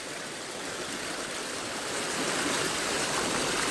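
A river stream flowing beside a riverside washing spot, a steady broadband rush of moving water that swells slightly louder partway through, with no voices.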